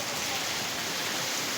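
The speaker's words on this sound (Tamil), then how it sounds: "இந்த மழை நல்லா பெய்யுது பாருங்கள், எப்படி இருக்கு பாருங்கள், நல்லா இருக்குது." Heavy rain falling in Chennai makes an unbroken, full hiss of downpour, close and steady from start to finish, with no speech over it.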